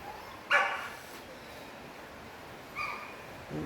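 A dog gives a sharp, close bark, followed by two softer barks a couple of seconds later against a quiet background.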